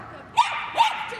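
A younger small dog, four years old, barks twice in quick succession during a championship agility run at Crufts 2013, short sharp yaps rising over the faint hum of the arena.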